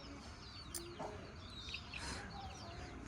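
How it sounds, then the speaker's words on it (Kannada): Young chicks cluck and peep faintly at a distance, with a few scattered high chirps over a quiet outdoor background and no clear speech. "ಅಲ್ಲಿ ಕೋಳಿ ಮರಿಗಳು ಬರ್ತಾಯಿದೆ"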